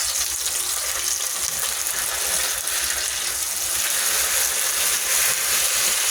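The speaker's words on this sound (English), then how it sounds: "Take your spatula. Just get under them and give them a flip there." Hash browns frying in a pan, with a steady close sizzle and scraping clicks as a spatula slides under and flips them.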